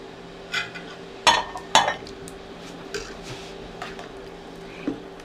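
Carrots and potatoes go into a pot of green lentil soup: a few sharp clinks and clatters of vegetables and utensils against the pot, moderately loud, over a low kitchen hum, with no speech.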